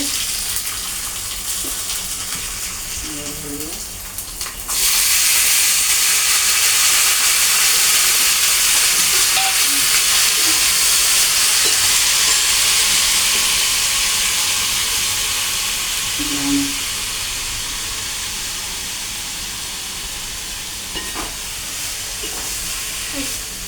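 Cumin seeds and green chili pieces dropped into a hot pan for a lauki bhaji, bursting into a loud, sustained hiss and sizzle after a quieter start, with faint crackles scattered through.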